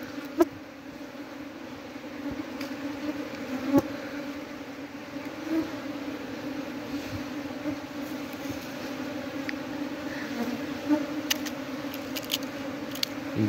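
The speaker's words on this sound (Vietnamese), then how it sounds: "tổ ong khủng như thế này đây mà." Honey bees from a wild nest being harvested, a continuous buzzing drone with individual bees passing close by, plus occasional light clicks and knocks from the work, with no talking.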